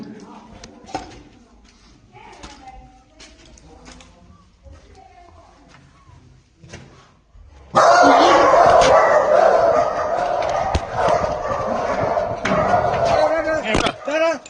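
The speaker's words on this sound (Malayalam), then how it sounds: "പട്ടിയാണോ? പട്ടിയുണ്ടല്ലോ." Dog barking and yipping, a few faint barks amid quiet talk at first, then a loud burst of noisy sound with repeated barks cutting through.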